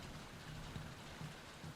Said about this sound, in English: I wonder if the rain will keep going after I leave.